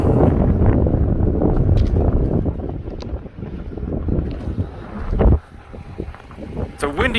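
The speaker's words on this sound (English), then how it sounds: "It's a windy, cold mess up here." Wind buffeting hard on a cold mountain pass near Ouray, Colorado, loud gusty rumble and microphone roar throughout, dropping briefly then surging back, with bits of voice mixed in.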